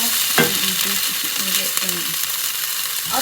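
Lemongrass and spice chicken stir-fries in cooking oil, a steady sizzle broken by short scraping stirs of a utensil across the pan.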